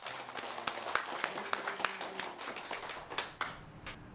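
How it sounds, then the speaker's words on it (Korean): Audience clapping to welcome a guest during a comedy sitcom-style show, a ragged patter of hand claps with sharp individual slaps standing out, fairly close and steady, with faint voices underneath. "뜨거운 박수로 환영합시다."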